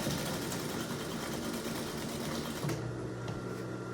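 Sewing machine stitching fabric for a homemade apron, a close, steady motor hum and needle drone that runs continuously, then drops slightly in pitch near the end as the machine slows.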